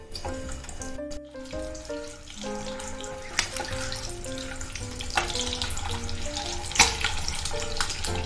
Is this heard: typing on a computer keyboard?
no